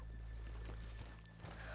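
Horse hooves clip-clopping in the Red Dead Redemption II video game, a few soft hoof strikes over a low ambient rumble, with no talking.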